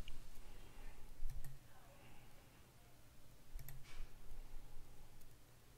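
Sharp mouse clicks in the Prezi presentation editor, two quick pairs spaced a couple of seconds apart, faint and close against a quiet room hiss.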